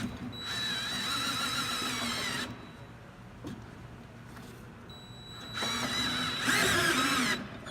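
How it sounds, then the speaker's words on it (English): Two bursts of a cordless drill with a deep socket whirring at high speed, tightening a hex nut on a VRU filter insert, each running a couple of seconds, separated by a brief pause with a faint click in between. "use the deep socket with the cordless drill to compress and"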